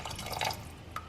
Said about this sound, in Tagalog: Lalagyan natin siya ng suka.